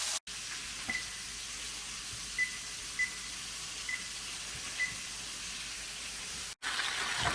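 Chicken for pollo valdostana frying in a pan gives a steady, close sizzling hiss with a few soft pops scattered through it. No one talks.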